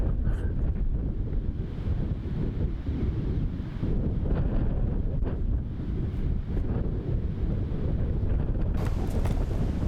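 Steady gusting wind roars across an outdoor disc golf course during a pro tournament round in Melbourne, buffeting the microphone in a dense, continuous low rumble with brief surges, no other sound standing out.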